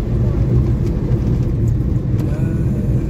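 A car drives along a road on a trip toward Igatpuri near a big tunnel, giving a loud, close, continuous low rumble of engine and tyres.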